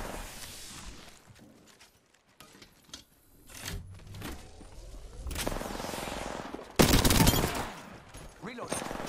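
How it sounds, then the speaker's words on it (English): Gunfire in the battle royale Apex Legends, scattered shots and short bursts near and far, building to a loud close burst late on, with faint movement sounds between. "Listen up, I'm getting shot at."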